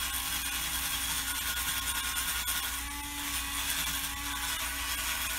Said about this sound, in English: I will have to use the crevice cleaner to get it because the fine point brush